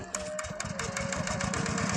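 A farm tractor engine runs steadily during a pumpkin harvest, chugging with a close, even mechanical rhythm and clattering tones throughout.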